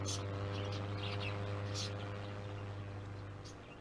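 Caged birds in the Exotica Petshop Simulator game give a few faint, brief chirps and tweets over a steady low electrical hum, all quiet and slightly fading toward the end.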